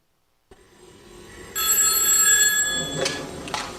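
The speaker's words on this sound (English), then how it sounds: "That's the Boulay phone." Telephone bell ringing, a sudden loud sustained metallic ring that starts after a quiet lead-in and then breaks into trailing rattles, close and alone with no speech.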